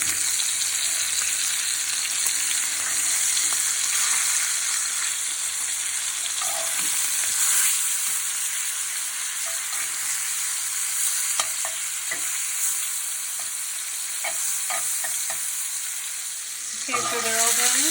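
Filet mignon sizzles steadily in butter in a hot pan, a loud continuous frying hiss with occasional stirring and scraping noises near the end.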